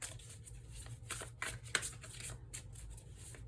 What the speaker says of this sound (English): It's like when I'm on camera, I can't shuffle well.